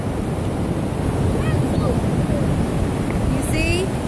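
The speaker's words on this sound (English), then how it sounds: "Oh my God, look how big the waves are." Ocean waves break on a beach in a steady, full roar of surf with wind buffeting the microphone, continuous and close for several seconds, with a faint high chirp or whistle drifting over it.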